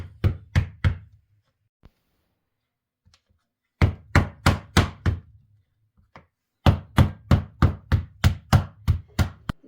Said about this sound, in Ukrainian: зараз ми їх відбиваємо злегка з обох бочків